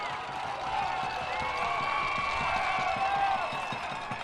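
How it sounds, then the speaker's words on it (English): A stadium crowd at a Chattanooga Red Wolves SC versus Tormenta FC soccer match roars steadily and loudly, with a sustained wash of cheering and whistle-like tones throughout. "Crowd the loudest it's been today"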